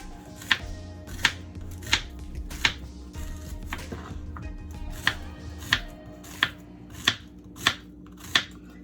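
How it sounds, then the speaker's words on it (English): A knife cuts peeled green plantain into small pieces on a board, each chop a crisp, distinct thunk, about a dozen strokes at a slow, fairly even pace, close and clear with a low hum underneath. "I'm going to go ahead and cut it up in small pieces"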